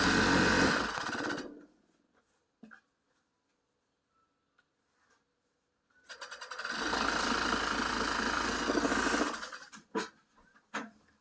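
A sewing machine stitches down a sleeve in two close, loud runs separated by a few quiet seconds, the second run stopping into a few sharp clicks.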